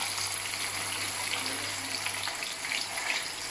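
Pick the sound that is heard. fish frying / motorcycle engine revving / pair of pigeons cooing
fish frying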